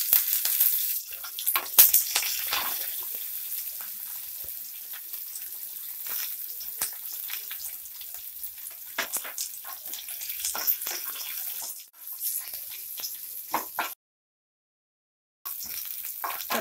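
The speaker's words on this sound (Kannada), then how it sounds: "ಈಗ ಸಾಸಿವೆ ಸಿಡಿತಿದೆ. ಈಗ ಕರ್ಬೇವಿನ ಸೊಪ್ಪು ಮತ್ತು ಜಜ್ಜಿದ ಬೆಳ್ಳುಳ್ಳಿ ಹಾಕ್ತಾ ಇದ್ದೀನಿ." Mustard seeds pop while curry leaves and crushed garlic fry in hot oil for a radish sambar tempering. The sizzle is steady and close, with crisp crackles, and it breaks off briefly near the end.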